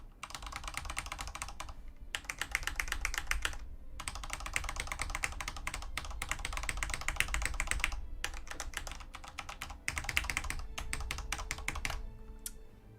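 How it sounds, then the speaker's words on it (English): Rapid, close computer keyboard typing with arrow keys being hammered, dense clattering bursts broken by brief pauses, loud and continuous with no voices. "I just smashed all the arrows on my keyboard"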